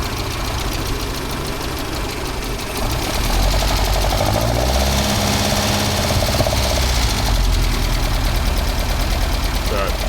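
A classic Toyota Starlet or Mini engine with a variable-dwell ignition idles loudly up close, then the revs rise to a busier, throbbing drone and hold there. A person talks over the engine.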